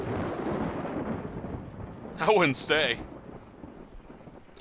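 Rumbling thunder in a stormy night scene from the video game Fatal Frame II, a broad low roll that swells and fades across the clip, with a voice briefly talking over it.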